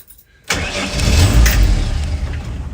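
A restored 1968 Land Rover Series IIa 88-inch 2.25-litre petrol soft top cranks briefly, then fires loudly and settles into a close, steady idle with no talking.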